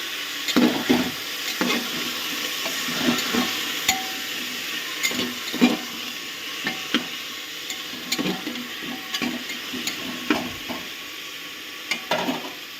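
Chicken stew seasoned with salt and turmeric fries in a pan. A constant sizzle runs underneath while a spoon scrapes and stirs in repeated, uneven strokes, close and fairly loud.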